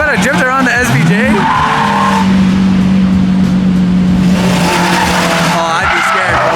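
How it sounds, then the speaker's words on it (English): A Lamborghini SVJ drifts at Monterey Car Week, its tires squealing in long sustained howls under a roaring engine, loud and close, with excited voices talking over it. "Is he about to drift around the SVJ?"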